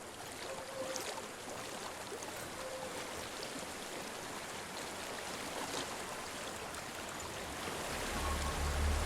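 Water flows in a stream in the video game Hellblade: Senua's Sacrifice, a steady broadband rush that holds evenly throughout and swells slightly near the end.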